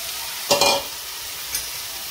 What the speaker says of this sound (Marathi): आता व्यवस्थित परतवून घेऊया गाजर तुपामध्ये।